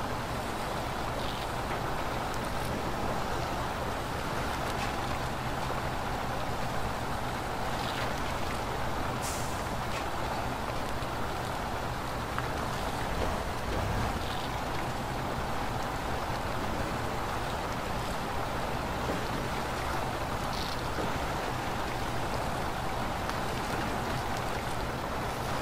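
A truck engine roaring steadily at full throttle in the Spintires Mudrunner video game, a loud, unbroken drone with brief hissing bursts over the top.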